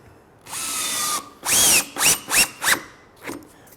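A power drill drives a screw into a wooden rafter tail in a woodworking shop: one long whirring run, then several short bursts that tighten the screw, close and loud with no talk.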